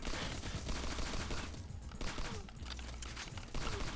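Rapid gunfire at enemies in the shooter Agent 64, a steady, dense stream of shots that continues for several seconds at moderate loudness with a brief dip midway.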